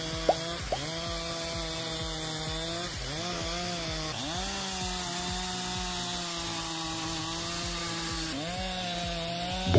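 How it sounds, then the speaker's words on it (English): A forestry log debarker and cross cutter processes wood, giving a steady loud mechanical whine with shifting pitch, swelling and dipping several times as the machine bites into the log, with a couple of sharp knocks near the start. "Meet the ultimate powerhouse in forestry, our log debarker and cross cutter."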